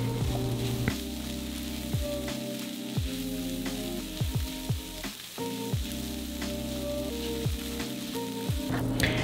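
Food sizzling in a pan as it slowly caramelizes over low heat, a steady crackling fry with occasional pops, close and continuous.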